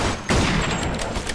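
Rifle fire in the World War setting of the Mafia 2 video game, a loud burst of gunshots starting abruptly and continuing as dense, rolling fusillade with no talk.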